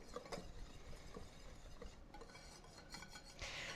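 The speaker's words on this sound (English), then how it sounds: "we're just whisking together our dry ingredients to make sure they're all incorporated" Dry ingredients for chocolate sourdough muffins whisked in a bowl, a faint continuous rustling stir with light clinks of the whisk against the sides.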